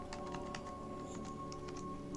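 Light, scattered keyboard clicks during design work in Figma, faint and irregular over a constant electrical hum, with no one speaking.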